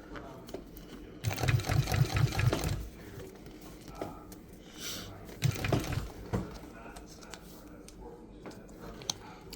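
A sewing machine stitches boat seat cover upholstery material in short, rapid bursts of whirring, with pauses and handling noise between them. A person talks at times.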